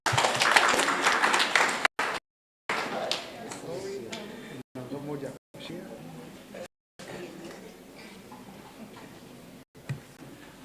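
An audience applauds at a church self-help group education day, with loud broadband clapping for about two seconds that then thins into scattered claps amid murmuring voices and short breaks.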